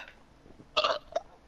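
A short throaty burp after a big gulp of Dr Pepper soda, a quick wet belch followed by a smaller second one, close and fairly quiet.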